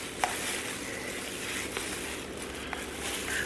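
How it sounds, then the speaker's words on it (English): Green colorant being stirred into cold process soap batter, a soft continuous wet swishing at close range with a few faint clicks of the utensil against the container. "I'm gonna stir this a little bit just to make sure all that color is incorporated"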